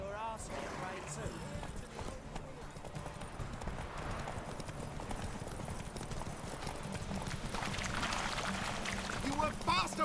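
Roach the horse gallops in The Witcher 3 with rapid, steady clip-clop hoofbeats. Game effects sit under them and a voice talks throughout.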